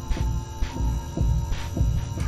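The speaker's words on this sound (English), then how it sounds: "I'm supposed to be following the heartbeat to find a luminous door." A slow, deep heartbeat throbs in a Backrooms horror video game, with low thuds repeating about every half second over a steady electrical hum, loud and close with no talking.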